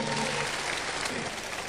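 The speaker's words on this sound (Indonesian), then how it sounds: "Tepuk tangan untuk Unicor Bapak Ibu." Brief burst of applause from an audience at an Indonesian seminar talk, steady dense clapping throughout, moderately loud and without speech.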